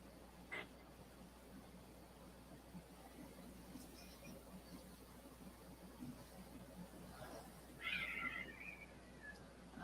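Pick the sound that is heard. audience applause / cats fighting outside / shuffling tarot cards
cats fighting outside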